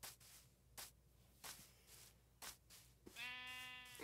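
Sheep in the Minecraft video game bleat once near the end, a clear nasal cry following several short bursts of blocky in-game noise over quiet background.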